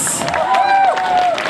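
Applause and cheering from a concert audience in Koknese, a steady broad wash of clapping and crowd noise throughout, with a sustained sung or whistled tone rising above it in the middle.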